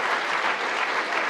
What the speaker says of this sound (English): given you a really good round of applause there